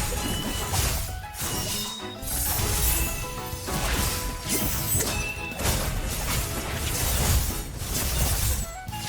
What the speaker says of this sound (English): a very flashy playstyle that has you leaping into the air to come crashing down on the enemies